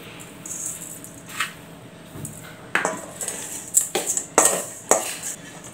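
A spoon scrapes and clinks against a metal vessel as sugar is mixed into sago puttu, with sparse knocks at first, then a quicker cluster of sharp metallic taps near the end, close and moderately loud.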